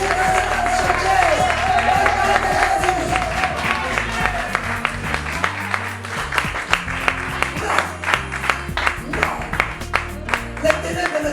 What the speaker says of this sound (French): Acclamez le Seigneur. Acclamez plus fort. Acclamez encore.